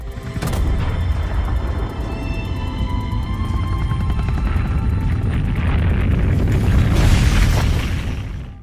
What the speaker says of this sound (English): escape just before the missile arrives to completely floor Raccoon City for good